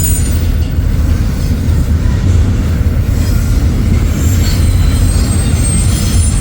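Eastbound Union Pacific freight train passing in Fremont, a loud, close, continuous rumble of rolling cars with wheel noise and faint high squealing throughout.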